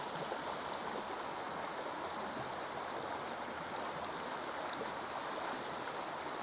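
A river flows in a steady, broadband rush of water, constant and even with no pauses, heard alone at moderate distance without any voices.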